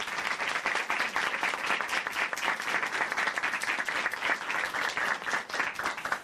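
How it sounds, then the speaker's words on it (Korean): Sustained applause from a church audience honoring a woman who has just given her testimony, steady dense clapping at even loudness throughout with no talk over it. "오늘 귀한 간증 전해주신 김현주 자매님께 다시 한번 박수 보내드릴게요."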